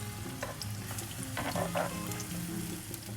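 Aubergine slices coated in gram flour batter fry in hot oil, giving a steady sizzle with a few brief louder crackles and splashes partway through.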